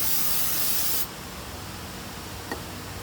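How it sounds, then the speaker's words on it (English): Brake cleaner sprays onto the front wheel hub of a 2012 GMC Terrain in a loud, close hiss for about a second, then stops, leaving quiet background and one faint tap. "I like to do is clean this hub off first with some brake clean"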